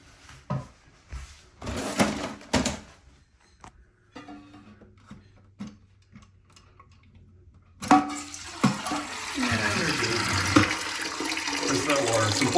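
Water draining from a toilet tank into a bucket during a fill valve replacement: clunks and handling noises first, then a sudden rush of splashing, pouring water that continues, with brief talk.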